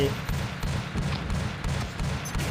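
Dual pistols firing in the mobile shooter Pixel Gun 3D, a dense run of rapid overlapping shots with steady rhythm and full low thump, continuous across the whole stretch.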